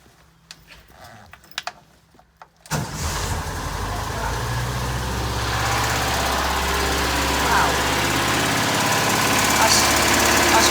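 A VW Westfalia Bay window camper engine that has stood for 2.5 years cranks and catches after a few seconds of clicks and handling. It then settles into a loud, steady, rough idle that continues to the end.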